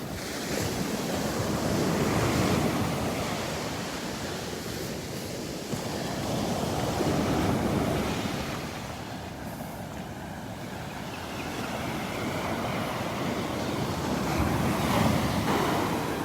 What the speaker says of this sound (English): walking up the beach, enjoying the sights and sounds of the waves